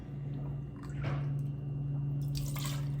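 Vodka pours and splashes briefly over ice in a cocktail shaker, with wet dripping and sloshing sounds against a steady low hum in the background.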